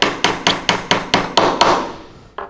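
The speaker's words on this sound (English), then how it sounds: "Now, I don't want you to keep hammering once it's even, okay?" A hammer strikes a wooden birdhouse in a steady rhythm of about ten sharp, loud, close knocks, ending with a pause and two final blows.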